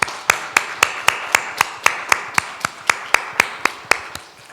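Applause at a Korean church thanksgiving service comes as sharp, crisp claps in a steady, quick rhythm, about four per second, close and distinct from start to finish.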